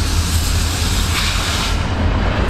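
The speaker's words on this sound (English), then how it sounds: "We got Florida East Coast train." A Florida East Coast train passes close by, a loud, steady rumble with broad hiss that holds for the whole stretch without a break. No one speaks.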